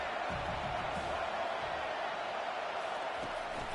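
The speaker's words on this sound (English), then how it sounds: "This crowd bringing the energy and noise early." Football stadium crowd at a college game keeps up a steady, distant roar of broadband noise with no distinct cheers, sitting under commentary.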